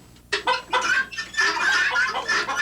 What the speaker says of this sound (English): Also on the farm, poultry.